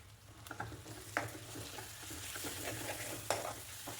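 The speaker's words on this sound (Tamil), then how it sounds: "மாங்காய் துருவி தான் சேர்த்துருக்கேன். சிம்மில் வச்சு நல்லா மிக்ஸ் பண்ணி விட்டுருங்க," Grated raw mango for pickle stirred in hot oil over low heat, with a steady soft sizzle and irregular scraping strokes of a spoon against the pan, a couple of sharper knocks standing out; no one speaks.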